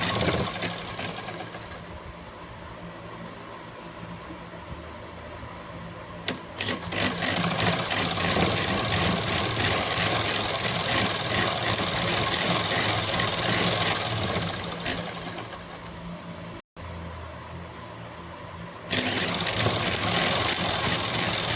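An electric sewing machine runs steadily, stitching straight seams along a salwar leg, with a short pause near the end before the motor whirs up again close by.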